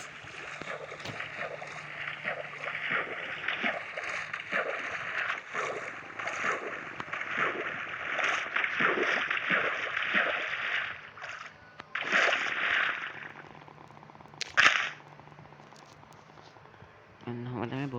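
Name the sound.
boat on water in Minecraft video game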